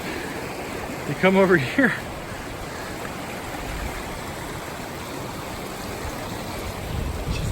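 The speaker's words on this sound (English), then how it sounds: "Just a little mountain stream up here" A small mountain stream flows with a steady broadband rush, close and continuous, while a voice speaks briefly near the start.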